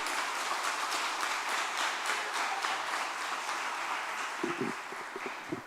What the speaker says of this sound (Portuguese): Eu queria uma salva de palmas para você.